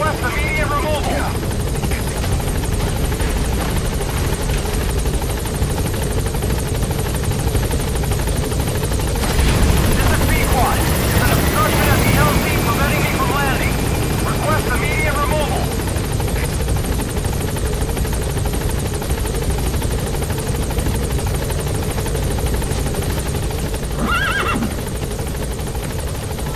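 A Pequod helicopter in Metal Gear Solid V hovers near a blocked landing zone, its rotor and engine droning steadily and swelling midway, under radio-style speech and game sounds.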